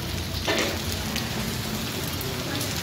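Steady rain pours down, a constant hiss of drops with a brief brighter splash early on and faint voices underneath.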